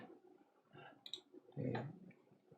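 Computer mouse double-clicking during software work, quiet small plastic clicks in a near-silent room with faint low handling noise.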